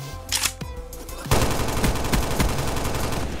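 Automatic gunfire from Black Ops 3, a long continuous burst of rapid shots starting after a second of quieter game sounds, loud and dense throughout, close up with no talk.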